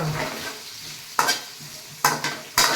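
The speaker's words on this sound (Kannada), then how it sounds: "ಸರಿಯಾಗಿ ಫ್ರೈ ಮಾಡಬೇಕು." Onions frying in a pan for chicken chilli: a soft, continuous sizzle broken by three sharp spatula scrapes in the second half, close by and with no talking.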